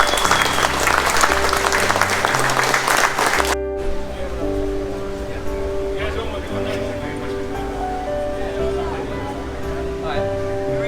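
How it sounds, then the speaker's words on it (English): A crowd applauds loudly and steadily at a Honda and Acura classic car meet, the clapping cutting off abruptly partway through, followed by ambient background sound. "Let's have a round of applause for all your support"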